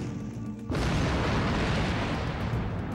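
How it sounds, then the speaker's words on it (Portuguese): A sudden loud fuel tank explosion blast erupts in a test, then turns into a sustained, heavy roaring rumble that continues without letup. "A força da explosão surpreendeu nossos técnicos do EMRTC."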